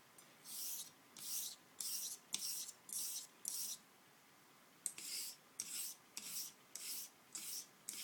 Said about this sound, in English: I'm going to set a bevel using this 1000 grit king.